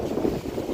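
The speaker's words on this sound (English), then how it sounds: "Whoa, it is definitely windy now." Wind blows outdoors at Niagara Falls on a rainy, foggy day, a steady low roar buffeting the microphone with no voices.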